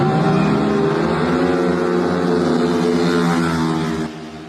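Several motorcycles ride together in a group on a bridge between Kaohsiung and Pingtung, a loud, continuous engine roar that drones and shifts pitch as the bikes pass. Near the end the sound fades slightly.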